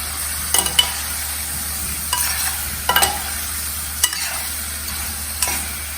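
Vegetables with salt sautéed in a pan for a Gujarati potato dish: a low steady sizzle with a handful of sharp spoon scrapes and clinks against the pan, spaced irregularly, no voices.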